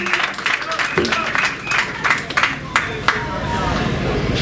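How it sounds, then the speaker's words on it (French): A crowd at a Congolese political gathering applauds, with dense clapping and cheering voices under steady room noise, a few sharper claps standing out. "je vous demanderai d'applaudir pour ces grands philosophes, historiens, Kamba Iguacha, ici présents."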